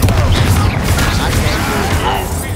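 Confringo fire-blast spell going off in the video game Hogwarts Legacy, a loud booming explosive burst with rumbling low end and crackling debris, continuing across the whole moment amid combat noise.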